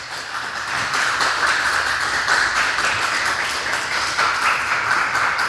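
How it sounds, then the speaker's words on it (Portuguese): Church congregation clapping during a family worship service, a dense steady wash of hands that holds strong for several seconds with no speech. "vamos aplaudir Jesus"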